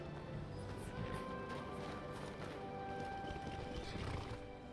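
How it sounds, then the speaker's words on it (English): Horse hooves clip-clop steadily with occasional whinnies over a dense, busy soundscape from the modded game Skyrim (Beyond Skyrim: Bruma), continuous and fairly close. "My horses clippity-clop over it."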